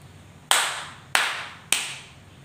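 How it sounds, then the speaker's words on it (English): Three sharp hand claps, evenly spaced about half a second apart and each with a short decaying tail, heard alone in a quiet room. "Clap your hands 3 times if you are ready."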